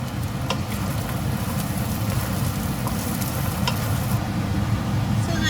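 Peanuts fry in a thin coating of oil while being stirred, with a continuous close sizzle and occasional sharp scrape or clink from the utensil, and no voices.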